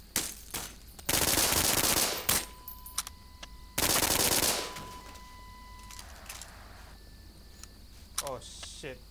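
Heavy machine gun in Half-Life 2 rips out two long, loud sustained bursts of rapid fire, separated by shorter shots and clicks, with quieter game ambience between them.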